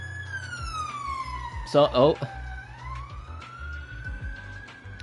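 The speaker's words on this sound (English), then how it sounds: "police siren just went up the road" A police siren wails as it passes along a road, a sweeping tone that drops and rises again, steady at moderate distance, while someone talks briefly over it.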